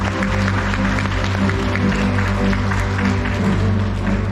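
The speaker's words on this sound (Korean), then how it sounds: "여러분 큰 박수 부탁드립니다." Applause from the audience at an art exhibition opening for artist Kim Seon-du at the Jeonnam Provincial Museum of Art, clapping spread over a loud hum of low tones in the hall, sustained throughout.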